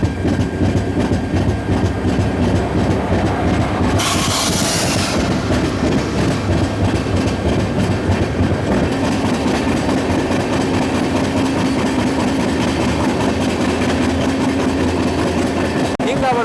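The Chennai to Bengaluru double decker express train 22625 runs on its rails with a loud, continuous rumble and a steady clickety-clack of wheels over the joints, heard throughout.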